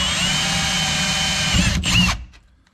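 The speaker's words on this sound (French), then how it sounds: "Ah bah oui, bah ça se perce." A power drill whines loud and close as it bores through a hard top plate on a Nissan Navara, a steady spin with two brief surges near the end before winding down to silence.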